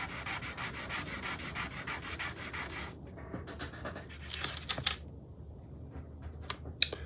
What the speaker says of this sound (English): I've got some old worn out 400 here sitting on top of a rag. I'm just going to clean it up